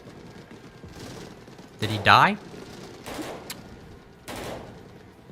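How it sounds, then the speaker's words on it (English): Rifle gunshots in the Dies Irae video game: several sharp bursts spaced a second or so apart, with one louder crack near the middle and a voice speaking briefly. "Gunshots. Several rifles shots echoed from their left just then"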